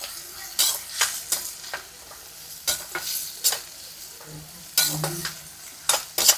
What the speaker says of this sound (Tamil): வெங்காயம் தாங்க நல்லா வதக்கணும்.